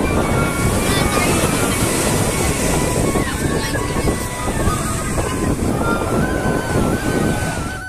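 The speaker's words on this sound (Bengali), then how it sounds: "এখন বিচের ধারে বসে বসে সন্ধ্যের সেই ঢেউ" Evening sea waves break on Digha beach in a loud, continuous roar of surf, with wind buffeting the microphone and faint voices in the background.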